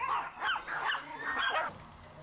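A dog barks three or four times in a quick series of sharp, close, fairly loud barks with a slightly whining tone.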